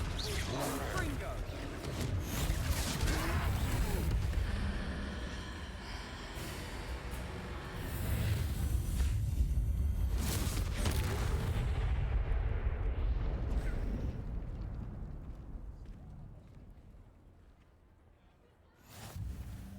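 Confringo blasting spells in Hogwarts Legacy burst in loud, rumbling explosions that swell and fade over a long roaring stretch during a troll fight, with spell casting voices and dialogue mixed in.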